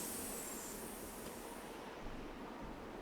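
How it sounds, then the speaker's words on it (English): Train pulling away from a station in the video game Nancy Drew: Last Train to Blue Moon Canyon, a steady broadband rumble and hiss with a faint high squeal early on, no voices. "Sounds like the train's leaving."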